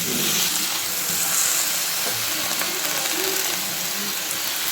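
Washed leafy greens hit a hot pan of fried pumpkin and potatoes, giving a steady, loud hiss and sizzle that holds evenly throughout with faint crackles underneath.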